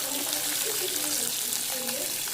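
Onions frying in oil in a pan for Andhra-style garlic chutney, a steady close hissing sizzle throughout with faint background voice and brief clinks.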